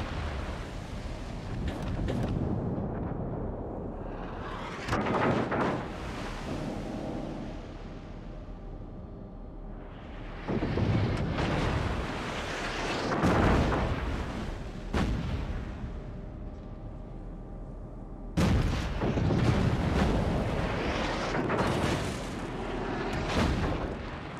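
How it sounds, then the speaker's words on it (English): Heavy booming blasts and rumbling explosions roll out in World of Warships as a destroyer is blown up, with repeated loud detonations and a deep rumble between the bursts. "Destroyer blown up."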